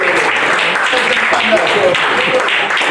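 A church congregation claps and applauds continuously, a dense patter of many hands filling the room while a voice speaks over it.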